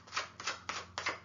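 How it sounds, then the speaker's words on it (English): Tarot cards shuffled by hand in four quick, evenly spaced riffling bursts, each a crisp papery rush, close and fairly quiet, with no talking. "let's shuffle up the cards again"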